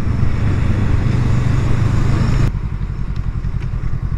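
A 2020 Honda Rebel 500 motorcycle on the road gives a loud, throbbing engine drone that drops sharply as the rider shifts gear, then settles into a lower, pulsing rumble with wind noise.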